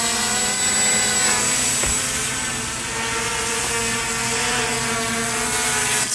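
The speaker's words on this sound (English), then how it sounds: "Okay, so as you can see, quad took off." A tethered quadcopter drone hovers close by with a loud, steady buzzing whine from its rotors. The pitch holds nearly constant apart from a brief dip in intensity.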